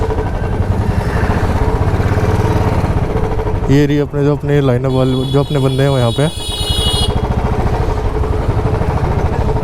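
A group of motorcycles sits idling at the lineup before a Sunday group ride, with a steady, constant engine rumble throughout and someone talking over it close by.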